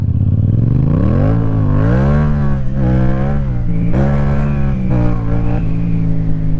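A Yamaha R6 or MT-07 motorcycle engine revving loudly and close, its pitch climbing and falling through repeated throttle blips and gear changes with no one speaking.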